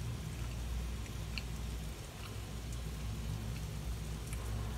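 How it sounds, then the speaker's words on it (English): Heavy rain falls steadily outside during a downpour in southeast Michigan, a dense, continuous hiss with a low rumbling wash underneath and a few faint drips standing out, no voices. "It is raining hard out there."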